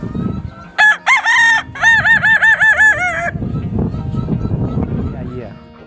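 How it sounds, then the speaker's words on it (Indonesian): A Kukuak Balenggek chicken from West Sumatra crows up close in a long, stepped, melodic series of notes, followed by someone talking. "Kalau dia berkokok tidak beraturan, itu kita namakan ginyang."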